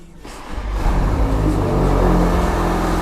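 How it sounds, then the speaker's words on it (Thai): A Toyota A90 Supra's four-cylinder exhaust rumbles loudly up close, swelling after a brief quiet start into a steady, throaty drone. "เสียงปลายท่อก็ดังดีนะนะเครื่องสี่สูบ"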